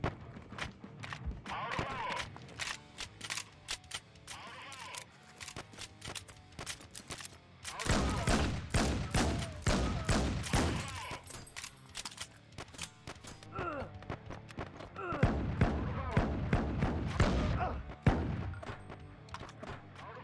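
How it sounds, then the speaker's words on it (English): Gunfire from the virtual reality shooter Hard Bullet, set in its Kowloon location, comes as sharp rapid shots with heavy bursts and short pauses between volleys, loud and close, with occasional voice sounds mixed in. "Gun sounds nice."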